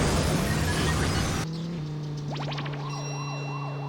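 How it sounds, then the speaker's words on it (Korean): A siren in the KartRider racing game rises and falls in repeated wails after a loud burst of engine roar cuts out, set against a steady game drone and bright tonal effects, with no talking. "사이렌 조심"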